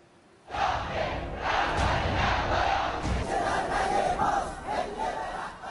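Large crowds of anti-government protesters in Iran roar and chant together, a dense, loud wall of voices that surges in after a brief quiet moment and holds steady.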